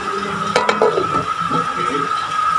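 A lid is set onto a cooking pot of pork adobo, giving a couple of sharp metallic clanks followed by a light rattle, over a steady simmering hiss.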